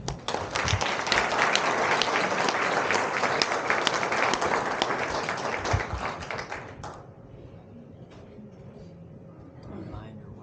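Warm, full applause from an audience at a Democratic gathering greets a keynote speaker, loud and steady for about seven seconds before cutting off, followed by quiet room tone and the start of someone speaking.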